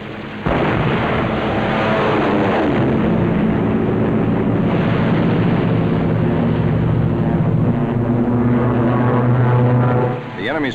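A World War II fighter airplane strafing enemy boats from a carrier, heard as a loud steady propeller engine roar with rumbling gunfire mixed in, continuous and close throughout.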